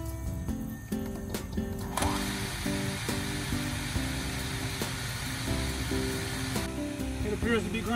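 A homemade macerator pump grinding RV sewage from a holding tank, a steady whirring churn with clicking mechanical ticks and gurgling flow, close by, with brief speech at moments.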